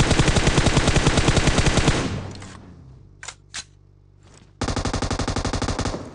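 Automatic gunfire in PUBG aimed at a UAZ vehicle: a loud rapid burst of shots, a lull with a couple of lone cracks, then another fast sustained burst, close and dominant.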